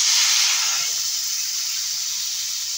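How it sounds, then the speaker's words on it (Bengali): Thin broth poured into a pan of fish curry with katla fish and water lily stems, giving a loud, steady hiss and sizzle that starts strong and settles into a softer, even steam. "এবারে দিয়ে দেবো ঝোল।"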